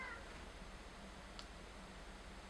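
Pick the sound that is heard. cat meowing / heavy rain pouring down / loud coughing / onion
cat meowing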